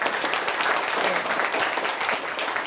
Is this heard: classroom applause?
yes